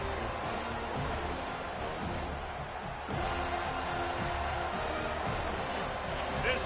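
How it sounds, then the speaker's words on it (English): A stadium crowd roars at an NCAA football game, a dense sustained wall of noise rising in waves with occasional thuds, while a commentator talks over it. "This crowd trying to make life miserable for this offense."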